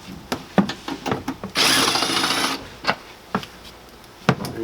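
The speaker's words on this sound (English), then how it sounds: "with the electric drill, you make pretty short work of it all." An electric drill backs screws out of panels inside a Sprinter 144 van, with short, close bursts of whirring and clicking and one longer sustained run in the middle.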